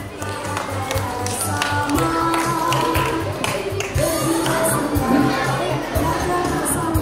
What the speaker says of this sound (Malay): Beri tepukan yang gemuruh.